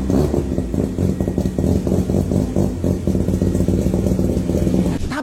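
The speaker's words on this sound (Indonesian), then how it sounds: "Suara mesinnya juga khas banget. Mesin rotari dengan 4 rotor modif dijamin bikin lo tuh merinding banget." A modified four-rotor rotary engine in a Mazda RX-7 revs loud and close, with a rapid, buzzing, pulsing drone that holds steady for several seconds before dropping away abruptly.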